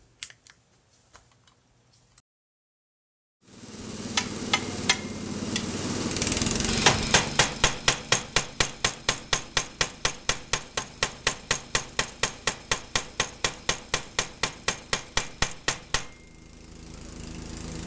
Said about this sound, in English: using a power hammer to force the impression of that die into a blank